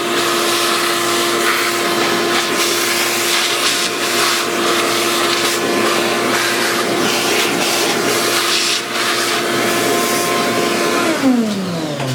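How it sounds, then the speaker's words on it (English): A vacuum cleaner drones loudly and continuously with a steady hum, its pitch shifting slightly near the end. "I'm going to get the vacuum cleaner."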